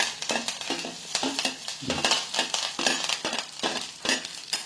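Dried red chillies and onions sauté in a pan with steady crackling sizzle, broken by repeated close scraping and stirring strokes, no voices.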